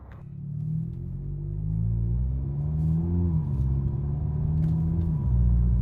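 A Kia K5 GT-Line engine with a K&N intake and its custom airbox removed idles, then revs up and falls back in smooth swells, a deep steady rumble heard from close by outdoors without any talking.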